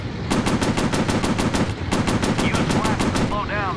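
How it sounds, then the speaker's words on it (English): Rapid machine-gun fire from a WWII fighter plane in a Pacific air-combat VR game rattles in two long, loud bursts with a short gap between them, close and steady, with faint beeping tones near the end. "Machine gun's overheated"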